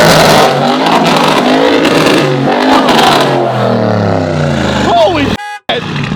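A supercar engine revs hard as the car pulls in, its rising, throaty note loud and close under excited overlapping voices, ending in a brief sharp cutoff.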